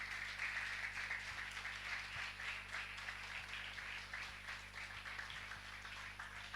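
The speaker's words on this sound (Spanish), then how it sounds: "Dale un aplauso al Señor." A church congregation applauds during a Spanish-language service, a steady, fairly distant wash of clapping over a low hum.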